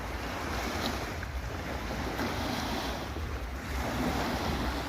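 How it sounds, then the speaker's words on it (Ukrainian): Steady roar of Black Sea surf at night, waves washing in continuously with gentle swells, mixed with some wind noise and no voices. "Ви чуєте, який шум моря"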